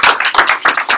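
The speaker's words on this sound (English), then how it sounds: "So let's give a big round of applause for Brianna and Patrice." Audience applause at a formal tenth-anniversary sports celebration in Ottawa, honouring two people: a short burst of close, crisp hand claps in an uneven rhythm, loud and without any talk.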